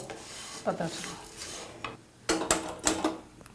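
Scraping and stirring of flattened rice roasting in ghee in a pan, with short rasping strokes and a few louder clinks of a utensil against metal, close by and without talk.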